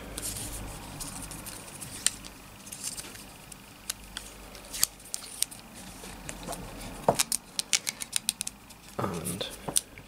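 Scissors snip badminton racket grip tape in short, sharp clicks near the end, amid rustling handling noise of the tape being worked around the racket handle.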